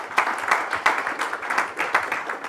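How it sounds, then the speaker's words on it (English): An audience applauds at a book launch event, with uneven bursts of clapping rising and falling at moderate distance and no voices heard. "I would like to join you with a big clap"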